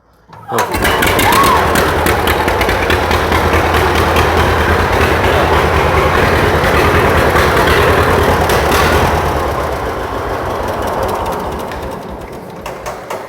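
A 1935 John Deere BO tractor engine starts and runs, a loud, close, steady chugging that holds for several seconds and then eases slightly, with people talking over it.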